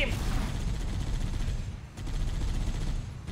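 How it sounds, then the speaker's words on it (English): Rapid gunfire from a first-person shooter match in Halo, loud and sustained bursts filling the clip with a brief dip partway through. "This gun doesn't really shoot where I tell it to shoot."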